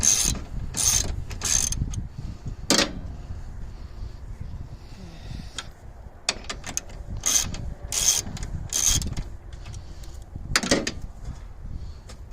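A wrench unbolts a car horn on a family hauler, giving irregular ratcheting clicks and metallic rattles in short bursts separated by quieter gaps, close and fairly loud.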